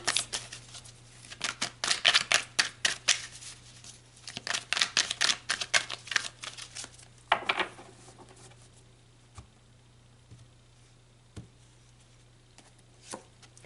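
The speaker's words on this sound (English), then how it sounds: "Let's pull a few more cards." Tarot cards are shuffled in rapid riffling bursts for several seconds, followed by a few soft, isolated flicks and taps as single cards are drawn and laid down, close and quiet.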